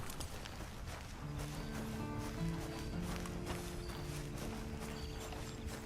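Horse hooves clip-clop steadily at a walking pace in the Red Dead Online game, with a sustained music bed underneath and no talk.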